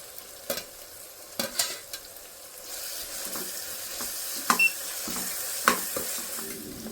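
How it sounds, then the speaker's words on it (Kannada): Ginger, garlic and chili paste fries in a pan for mushroom biryani, sizzling steadily while a spoon scrapes and stirs it in several distinct clanks and scrapes against the metal; no one talks. "ಇವಾಗ ಶುಂಠಿ, ಬೆಳ್ಳುಳ್ಳಿ, ಮೆಣಸಿನ್ಕಾಯಿ ಪೇಸ್ಟ್ ಮಾಡ್ಕೊಂಡಿದ್ವಲ್ಲ, ಅದನ್ನು ಹಾಕ್ತಾ ಇದ್ದೀನಿ. ಇದು ಹಸಿ ವಾಸನೆ ಹೋಗೋವರೆಗೂ ಆಡಿಸ್ಬೇಕು."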